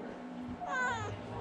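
A cat at a nonprofit cat cafe where kitties are up for adoption gives a single clear, drawn-out meow partway through, close and fairly loud over a quiet room.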